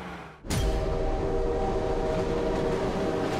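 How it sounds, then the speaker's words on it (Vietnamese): A train approaches and suddenly bursts in with a loud, sustained rumble and a steady tonal horn-like hum that continues without a break. "Tàu hỏa tới từ hướng đằng kia."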